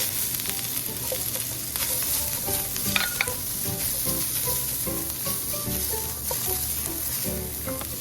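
Garlic and onion sauté in a little oil in a pan for pork chao fan, giving a continuous close sizzle with scattered spatula scrapes and small clinks throughout.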